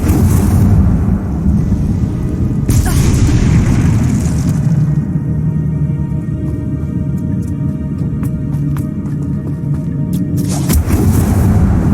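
Incendio, a fire spell in Hogwarts Legacy, roars as a loud, dense, booming rush that holds steady throughout, with a burst of flaring crackle near the start and again near the end.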